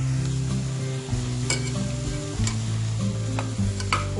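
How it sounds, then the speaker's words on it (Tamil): Cabbage fries with onions in a pan and is stirred: a steady oil sizzle runs under irregular scraping and clanking stirs of the spoon, close and continuous, with no talk. "இப்போ இதில் நம்ம வெட்டி வச்சிருக்கக்கூடிய முட்டைக்கோஸை சேர்க்கலாம்."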